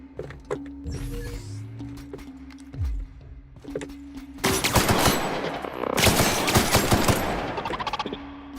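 Rifle gunfire in The Outer Worlds video game: a few scattered single shots early on, then dense rapid bursts of loud close-range fire over the second half.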